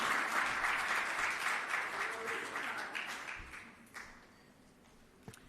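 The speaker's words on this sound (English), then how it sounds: "Please give a round of applause to all the stakeholders" Audience at an official medicinal cannabis permit programme launch giving a round of applause, dense clapping that fades gradually toward the end with a few last scattered claps.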